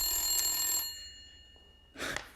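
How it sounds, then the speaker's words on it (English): Telephone bell ringing in two bursts, the first around a second long and the second shorter after a pause, fairly loud and close with no talk over it. "phone's ringing"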